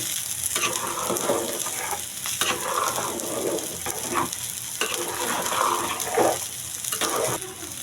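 Cauliflower and potato biryani mixture with sautéed potato and cauliflower being stirred together in a pot, steady scraping and stirring with soft sizzling underneath, close and moderately loud, no talking.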